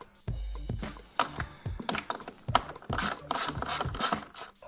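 10mm socket ratchet backing out grille fasteners on a 2018 Ford F150 Raptor, a series of close, rapid clicking ratchet bursts and scraping metallic turns, with no talking.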